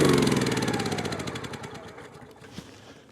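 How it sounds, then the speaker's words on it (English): A small engine on a working RC snow plow runs with its blades spinning and turns a belt-driven alternator, heard as a close, loud, rapid chugging that slows and fades over three seconds. "You can push this up, and now your blades are spinning."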